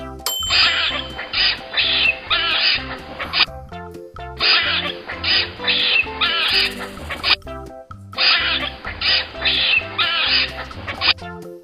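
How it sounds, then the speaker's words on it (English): Squirrel chatter plays in an animal sounds lesson for kids, three repeated bursts of rapid squeaky chirping, loud and close with short silent gaps between them. "Squirrel."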